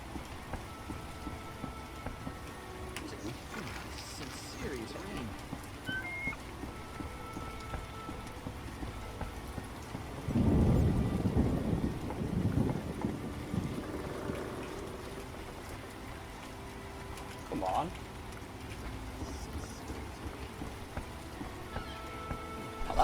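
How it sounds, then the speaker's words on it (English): Heavy rain pours steadily in The Witcher, a dense hiss of drops throughout, with a low thunder rumble swelling in the middle and a shorter one later. "Some serious rain."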